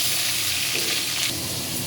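Tomatoes and spices sizzle in hot oil in a wok while being stirred, part of a boroli fish curry with potato and eggplant. The frying is steady and close, with a continuous hiss and no voices.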